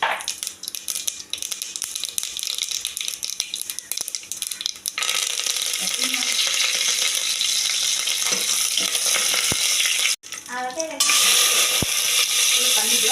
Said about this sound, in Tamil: கடுகு போட்டு பொரிஞ்சதுமே கருவேப்பிலை மட்டும் ஒரு 5 கருவேப்பிலை போட்டு அழிச்சிட்டு கறி போட்டு வதக்கிடுவோம்.